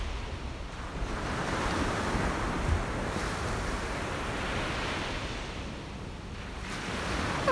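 Loud ocean surf breaking on a beach in the morning, a continuous broad roar of crashing waves with swells rising and falling, some wind buffeting the microphone, and no voices.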